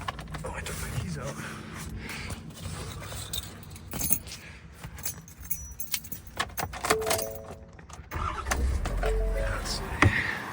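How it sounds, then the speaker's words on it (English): A bunch of keys jangles close by inside a Ford F-250 pickup, with a brief metallic rattle, then soft handling and mechanical cabin noises. "Oh, I took my keys out."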